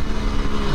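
A 1975 Kawasaki H2 motorcycle engine revs hard in first gear, a loud, close, raspy burst of throttle with a brief, rough pulsing note.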